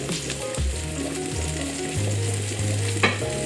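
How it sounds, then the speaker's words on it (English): Noodles sizzle and fry in a hot pan while being stirred, with scraping and clinking of the utensil over a steady close sizzle, no voices. "give it a little stir, make sure it doesn't stick together"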